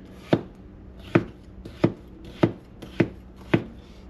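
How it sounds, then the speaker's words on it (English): A knife cuts a fat potato into thin slices on a cutting board, six sharp, evenly spaced chops close up, with no talking. "This potato is a little bit fatter, so I'm cutting it in a little bit thinner slices."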